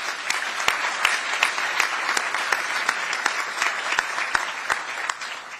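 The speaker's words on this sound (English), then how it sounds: "I want to give you a round of applause" An audience at a military appointment ceremony breaks into a steady round of applause, dense clapping with a few sharp, distinct claps standing out, sustained at even strength for several seconds before easing slightly.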